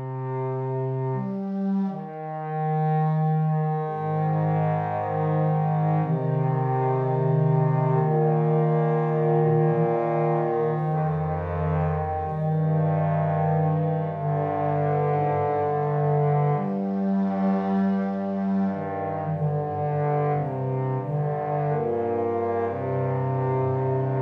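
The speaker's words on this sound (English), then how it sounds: "That's a bassoon set to soft air." A sampled bassoon plays a slow, sustained low melody, its reedy tones steady and breathy with a soft airy edge, continuous and alone.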